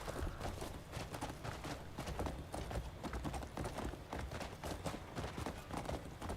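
Horse hooves gallop in the video game Crimson Desert, a quick, continuous clip-clop rhythm of dense hoof strikes, fairly soft and steady throughout, with no speech over them.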